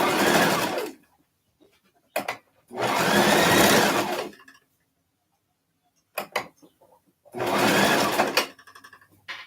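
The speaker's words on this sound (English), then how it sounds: "there's a button here to backstitch, which I just did. So the seam won't come apart." A sewing machine stitches a seam in three loud motor bursts, with short clicks and mechanism noises in the quiet gaps where it backstitches and stops.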